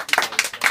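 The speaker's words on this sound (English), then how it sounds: "So I think that deserves a round of applause." Wedding guests break into a short burst of clapping, a brief patter of hands that is quick and fairly close.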